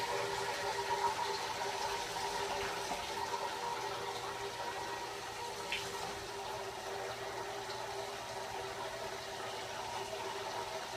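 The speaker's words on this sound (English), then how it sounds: "I've added another 8 ounces of water now." Water is poured into a container while a flex fuel sensor is tested, giving a steady, moderately quiet rushing and trickling sound that lasts the whole span without pause and with no talking.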